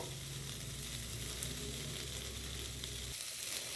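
Spices fry and sizzle in a pan for a home-style potato dum with asafoetida while being stirred; a steady close crackle holds for about three seconds, then the low background drops away and the sizzle continues alone.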